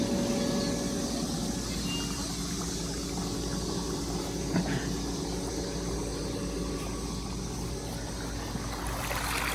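A half-horsepower pump runs with a filter on an Intex pool, giving a constant, even motor hum and rushing water flow that holds steady for the whole stretch.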